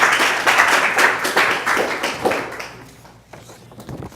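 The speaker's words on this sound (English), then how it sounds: "give another round of applause for Nathan" Applause from an audience at a student awards ceremony, distinct hand claps in a lively burst that tapers off after a few seconds, leaving a quieter room with a few stray claps.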